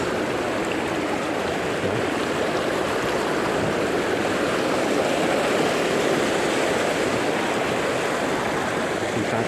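A fast-flowing river rushes with steady broadband noise, a dense continuous churn of water heard close up and unchanging, with a single brief word spoken over it.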